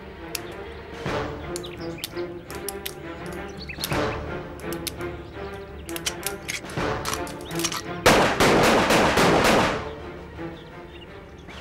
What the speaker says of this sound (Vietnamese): Dương Anh bắn khá lắm.